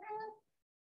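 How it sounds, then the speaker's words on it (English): A cat gives one short, quiet meow close by, a brief tonal cry that fades quickly into silence. "The cat knows the answer. He's screaming it."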